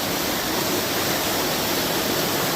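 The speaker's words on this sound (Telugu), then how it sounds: "ఒక బ్యూటిఫుల్ వాటర్ ఫాల్స్ దగ్గరికి మనం వచ్చినట్టు అవుతుంది" Ranajilleda waterfall near Araku roars as a dense, constant wash of falling water, loud and close, with no other sounds over the short span.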